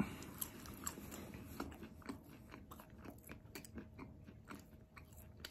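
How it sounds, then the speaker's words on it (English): Someone chewing Domino's sausage and pineapple pizza with chicken bites close to the microphone, soft crunchy bites and wet mastication continuing steadily, quiet and intimate with no talking. "as I cram my face full of pizza and chicken"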